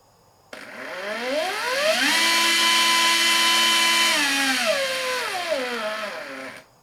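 A Fanttik NEX L1 Pro 3.6V cordless screwdriver whirs alone at close range, its motor pitch climbing as the variable-speed trigger is squeezed, holding a steady high whine for a couple of seconds, then winding down as it's released.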